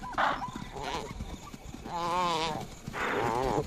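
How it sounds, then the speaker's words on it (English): A topi antelope bleats desperately during a lion attack, with several strained, wavering cries close by over a rough rustling background and no voices. "The chaser can hear the desperate bleat of a topi."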